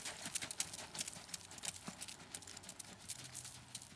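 Hooves of a Tennessee Walker gelding in a run walk gait clip-clop in a steady, quick rhythm near a barn, moderately close and fairly faint with no talk over them.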